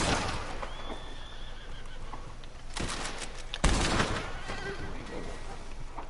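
A horse whinnies in the video game Red Dead Redemption 2, with hoof clip-clop and a burst of gunfire partway through, while a voice talks over the scene.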